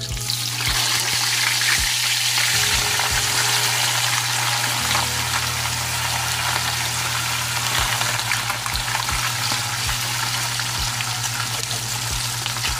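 Fish frying in hot oil in a home kitchen pan, a dense, steady crackling sizzle with a regular low tapping pulse running underneath throughout.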